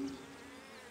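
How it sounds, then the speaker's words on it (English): Bees buzz briefly in an animated fable set in a meadow, a faint, steady insect drone lasting under a second with no talking. "In the meadow, he met some bees busy collecting pollen."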